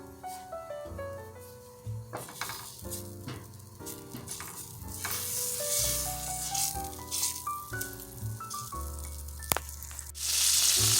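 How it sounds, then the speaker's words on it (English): Butter melts and sizzles in a pan over medium-low heat as the first step of classic creamed spinach, a steady soft frying hiss running beneath a prominent melodic music track. "we're going to add our butter in, and we're going to let that melt"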